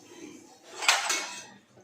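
A spoon clinks and scrapes against a pot while stirring fish curry made with boal fish in its released oil, one brief metallic scrape swelling and fading over quiet background.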